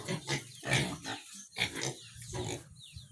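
Pigs grunt and oink repeatedly, up close, in a backyard farm pen with sows and their piglets.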